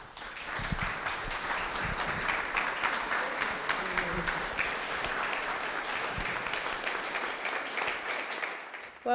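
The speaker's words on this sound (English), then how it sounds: "give her a warm welcome and applause" An audience at The Foster breaks into sustained applause to welcome a guest speaker, a steady wash of many hands clapping for about nine seconds before fading, with no talking over it.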